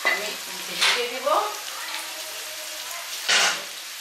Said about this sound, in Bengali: এই তেলে তেলেই তো ভাজা হবে তো এটা মিডিয়াম টু লো আছে এখন সিদ্ধ হইতে থাকবে